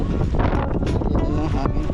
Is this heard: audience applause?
no